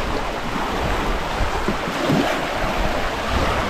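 Lake waves wash steadily onto the beach at Lake Desor on Isle Royale, a continuous close surf with wind noise buffeting the microphone.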